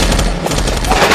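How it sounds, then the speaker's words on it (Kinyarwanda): Machine gun fire from a war film, with a military ship under attack, blasts in a loud, dense, continuous burst of rapid shots over a roaring background. "umva amashinigani"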